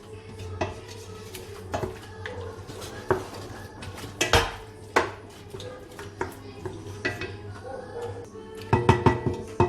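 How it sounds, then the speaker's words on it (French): Raw meat being mixed by hand or spoon with chopped tomato, parsley, coriander and spices for a Moroccan couscous, with repeated clinks and taps of a bowl and utensils at close range and no talk. "persil, coriandre, tous nos épices et on va mélanger, bien mélanger tout ça"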